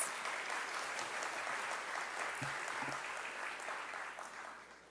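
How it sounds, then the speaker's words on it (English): Audience applause after a youth dance performance by a Caribbean dance school at a memorial lecture, a steady distant wash of clapping that holds evenly and then fades toward the end. "Let's give them a round of applause."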